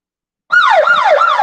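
Strong, cold wind on the Icefields Parkway in Canada buffets the microphone in a steady low roar, briefly cutting out before gusting back even harder.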